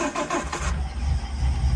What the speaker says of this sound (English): the car starts up, runs absolutely lovely